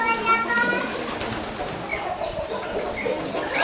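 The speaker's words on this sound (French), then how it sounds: "Ici on a les pigeons, on pourrait dire des colombes puisqu'ils sont tout blancs." White pigeons coo softly on a farm, faint and close among other bird sounds, while a person talks.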